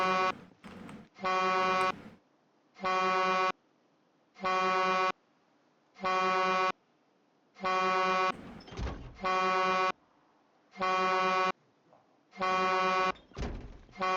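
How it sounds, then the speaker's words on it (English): A truck horn in Project Zomboid honks in a repeated pattern of about ten long blasts, each roughly a second, evenly spaced and loud, with a few clunks between them. "I was going to use it to be able to honk the horn anyways"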